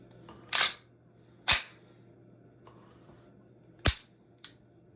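A Beretta 92FS 9mm pistol slide is fitted back onto the frame, giving a few sharp metallic clicks and clacks spaced about a second apart, close and crisp against a quiet room.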